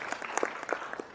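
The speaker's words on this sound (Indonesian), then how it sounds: "Oke, tepuk tangan buat Pak Didin." Brief burst of audience applause at a community peace discussion event in Ambon, a scattered patter of clapping hands, fairly faint and distant, lasting only about a second.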